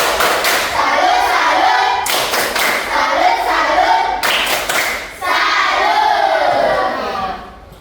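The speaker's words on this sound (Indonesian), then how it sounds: "Tepuk salut." Junior high school class in Indonesia performing the tepuk salut clapping routine, three bursts of rhythmic group claps and thumps with loud shouted chanting voices, each burst ending abruptly before the next.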